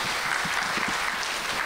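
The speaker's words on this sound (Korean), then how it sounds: "박수로 청해 듣겠습니다" A brief, faint patter of clapping comes from a seminar audience welcoming a speaker at a Korean venture capital talk, even and unbroken for under two seconds.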